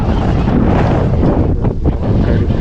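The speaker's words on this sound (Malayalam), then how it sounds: "നല്ല കാറ്റുണ്ട് കേട്ടോ" Strong wind gusts across open paddy fields near the Achankovil forest road, roaring loudly and continuously into the microphone with buffeting rumble and no voices.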